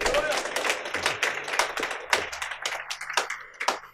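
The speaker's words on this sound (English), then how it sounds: "Give Jesus a big clap offering." Church congregation clapping in a burst of scattered, uneven hand claps at close range, thinning out toward the end, with a faint low hum underneath.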